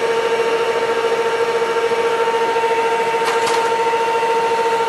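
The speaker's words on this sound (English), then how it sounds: "this is an old mixer we've had in the family for almost 40 years. And we're going to crank it up." A roughly forty-year-old electric kitchen mixer beats egg whites with vanilla in a steady, loud motor whine that holds a constant pitch throughout, with a couple of brief clicks near the end and no talk.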